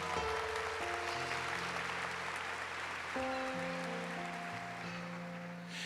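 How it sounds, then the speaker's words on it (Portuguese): A church congregation at an evening worship service claps strongly in praise, a broad steady wash of applause laid over sustained organ-like keyboard chords that shift partway through. "Dê uma salva de palmas bem forte aí ao nosso Senhor"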